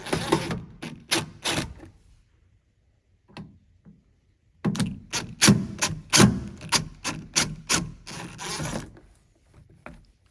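Screws being backed out of the door armrest on a 1970 Monte Carlo: bursts of quick, close ratcheting clicks from a hand tool, separated by a short pause, with a few softer knocks in between.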